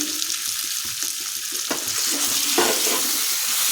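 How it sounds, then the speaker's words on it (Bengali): Boiled potatoes frying with spices in a pan, a continuous close sizzle with scraping stir strokes and no talking. "এখন খুব ভালোভাবে আলুগুলো মশলার সাথে ভেজে নিতে হবে।"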